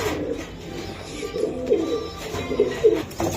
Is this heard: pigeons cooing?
yes